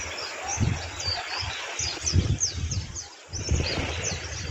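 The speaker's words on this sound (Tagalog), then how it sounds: "Mga ibon." Birds chirp in repeated quick bright calls at White Beach in Basco, Batanes, scattered through the stretch over low rustling and wind.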